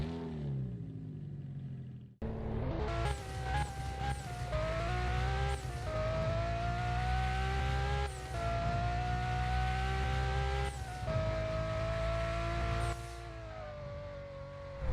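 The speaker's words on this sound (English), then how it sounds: "The engine sounds are actually pretty good." A car in the Roblox racing game Carzone accelerates through several gears, its engine note climbing in pitch and dropping at each upshift, loud and close with a rough rumble, starting after a short idle.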